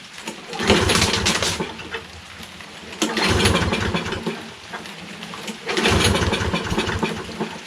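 A Toro Recycler lawn mower with a Kohler XT675 engine, running on old gas with the choke closed and starting fluid added, cranks and sputters in three loud, close bursts of engine noise separated by brief lulls.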